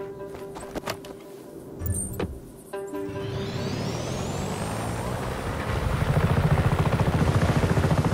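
A helicopter in the video game Just Cause 3 spools up after some clanking and mechanical sounds, building into a steady, loud rotor thump that grows stronger toward the end.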